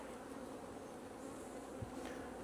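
Honeybees hum steadily around a brood frame of capped brood and drones lifted from a hive, a close, continuous buzzing swarm drone at low volume with no talk.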